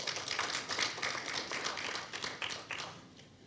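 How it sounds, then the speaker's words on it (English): Audience clapping at a leadership institute launch, a quiet, dense patter of many hands that thins out toward the end, heard somewhat distant with no talk. "you can clap for that."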